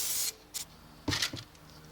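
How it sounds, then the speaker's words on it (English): Upholstery spray glue hissing from a can onto a worn leather suitcase, two short bursts and a couple of brief puffs, close up. "This is just upholstery spray glue"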